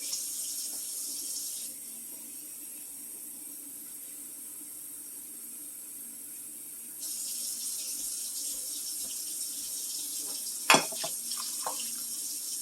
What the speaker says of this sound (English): I'm going to fill the water